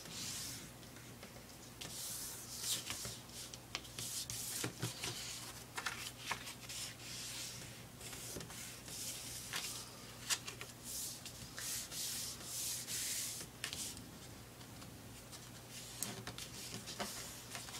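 Paper is folded and creased for a Hello Kitty journal, a continuous close rubbing and rustling with soft sliding strokes and occasional crisp taps, no voices over it.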